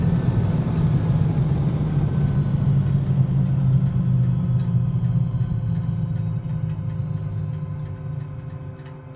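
A helicopter rotor and turbine wind down after landing in Microsoft Flight Simulator 2020, a steady low rumble with a fading whine that gradually quiets over several seconds.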